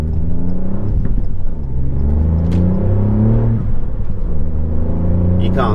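Ford Fiesta MK8 ST fitted with a Scorpion exhaust driving along a 50 mph country road in Suffolk, a loud, close engine drone whose pitch rises and falls through gear changes, with a voice talking over it.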